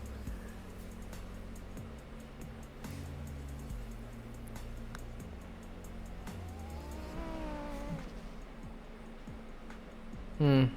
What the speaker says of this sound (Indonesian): Kalau V10 udah di dalam mesin, di dalam mobil M3 enak ya